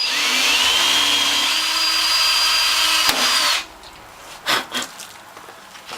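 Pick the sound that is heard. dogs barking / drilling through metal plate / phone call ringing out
drilling through metal plate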